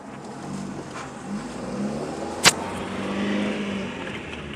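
A manual car pulls off in first gear with a freshly replaced clutch, a steady engine hum rising gently, plus one sharp click midway, heard from inside without talk.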